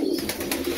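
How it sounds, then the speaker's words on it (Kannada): Racing pigeons in a home loft give a short, low, breathy coo, close and steady, with soft rustling around it. "ಅವ್ರ ಮನೆಯಲ್ಲಿ MIT ಲಾಫ್ಟ್, ಅಲ್ಲಿ ಪಾರಿವಾಳ ಸಾಕ್ತಾ ಇದ್ದಾರೆ."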